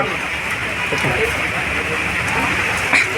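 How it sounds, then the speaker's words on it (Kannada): Steady rain hisses down on a surface nearby at a tea stall, a dense continuous patter with faint voices mixed in. "ನೀ ಚಾ ಮಾರಾಗಿದ್ದಕ್ಕೆ ಮಳೆ ಬಂದ್ಬಿಡ್ತು ನೋಡು"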